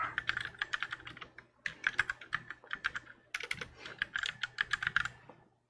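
Typing on a computer keyboard, a quick, uneven patter of crisp key clicks in bursts with brief pauses, close and clear with no talking.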